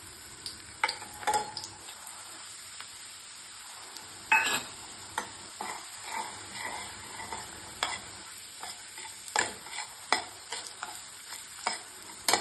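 Sooji semolina roasting in a pan, stirred with a spoon that scrapes and taps in irregular strokes over a faint, steady dry sizzle, close and fairly quiet with no talking.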